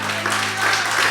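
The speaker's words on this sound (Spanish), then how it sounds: "Dale un aplauso a papá." An audience at a sermon about fathers breaks into brief, dense applause honoring dad, a short burst of clapping.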